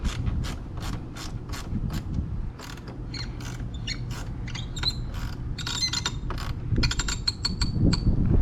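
A ratchet tightening a part while a JB4 tuning module is fitted to a BMW X1 M35i: quick, even clicking strokes close up, with brief pauses and a few sharper metallic clinks near the end.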